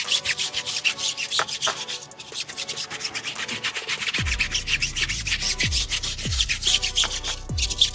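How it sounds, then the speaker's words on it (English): A stiff tire brush scrubs a car wheel in quick, rhythmic back-and-forth rubbing strokes, close and continuous, with a few low thumps toward the end. "And now we're gonna be agitating the wheel."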